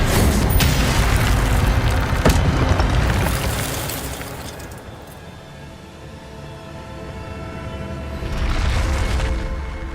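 The Incendio fire spell in the Hogwarts Legacy video game fires off a loud, booming burst that rumbles and slowly fades. A second roaring swell rises again near the end.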